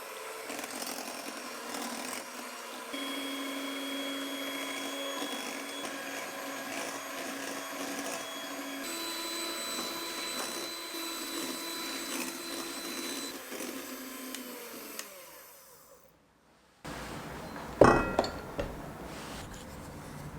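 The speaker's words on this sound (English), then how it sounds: "I'm gonna whisk until the sugar and eggs are frothy" An electric mixer whirs steadily while whisking sugar and eggs until frothy, a moderate motor hum that runs for about fifteen seconds, winds down to silence, then gives way to brief clattering handling noises.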